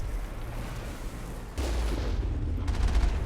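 Gunshots in Mass Effect, a rumbling low thud that steps up into a denser burst of rapid fire near the end, loud over a constant background drone.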